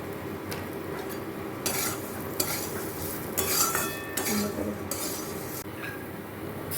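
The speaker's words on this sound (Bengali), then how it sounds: "আলুর সঙ্গে মশলাটা একটু কষিয়ে নেব।" Fried potatoes are sautéed with spices in a pan for a Bengali katla fish curry, with a soft sizzle under repeated scraping and stirring strokes of a spatula against the metal.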